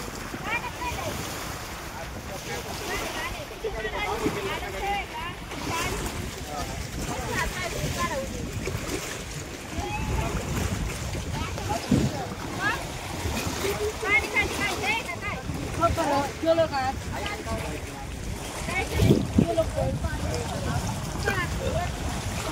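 A river flows with a steady rushing wash under heavy wind buffeting the microphone, while people talk nearby.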